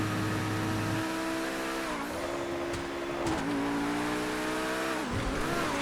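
A Tempesta Competizione Evo race car in GTA FiveM, its engine droning steadily at high revs, with the pitch dipping and climbing again through gear changes and a brief tire squeal.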